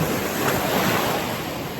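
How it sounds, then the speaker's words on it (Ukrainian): Steady rushing surf of sea waves on a beach at Cap Salou, Spain, broad and continuous, mixed with wind buffeting the microphone; no voices. "Сьогодні прекрасна погода, трохи є хвилі."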